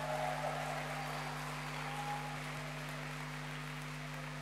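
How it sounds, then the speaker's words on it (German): Audience applause at a night event of a winter festival, a faint, steady patter of clapping over a constant electrical hum, with no clear peaks. "noch mal einen warmen Applaus geben"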